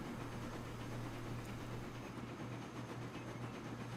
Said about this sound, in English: So now we're going to be reversing back with the locomotive.